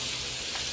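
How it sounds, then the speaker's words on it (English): A rack of lamb sears in hot oil in a pan with tarragon nearby, giving a steady, fairly quiet broadband sizzle and hiss with no voices. "Now it's going to sear."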